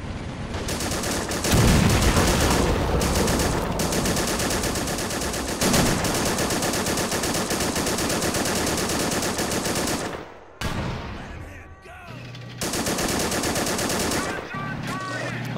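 Coaxial machine gun fire in the WWII game Men of War: Assault Squad, set at a 1944 Pacific airfield on Saipan, comes as long loud sustained bursts with brief pauses and some shorter rattles near the end, with no speech.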